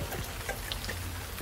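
Rain falls with thunder, a steady dense patter of drops on a surface with a constant hiss and a low rumble underneath, fairly quiet and with no voices.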